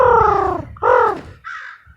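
A person imitates a crow, giving two drawn-out, harsh caws followed by a shorter, fainter third call, close and alone.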